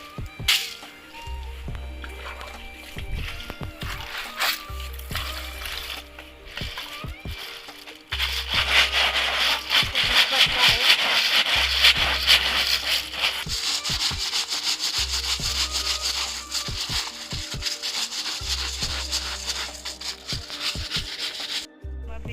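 Snails being washed and scrubbed by hand in water at home in northeast India before cooking, a steady close rubbing and scrubbing that grows louder and denser partway through, with soft splashes and no talking.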